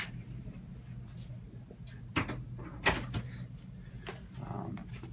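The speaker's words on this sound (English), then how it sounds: "Do you mind if I shut the door?" A door is pushed shut in a clinic exam room during a nurse's patient interview, giving two soft, close thuds over a steady room hum.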